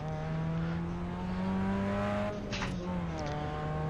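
Race car engine in a racing video game revving hard toward a low rev limit, a steady loud whine rising and holding, then dipping briefly as it hits the limiter and recovers.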